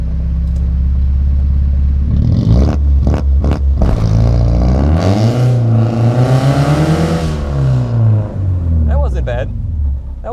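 Car launch control run through first gear: engine rumbling at a held launch rpm, then a strong acceleration rising in pitch before lifting off, close inside the cabin, with a person talking over parts of it.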